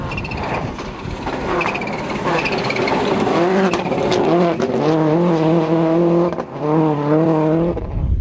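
Rally cars race at the Summit 2000 Rally, including a WRC Subaru Impreza: a loud, close engine roars and climbs through the gears with sustained high revving, steady and unbroken throughout.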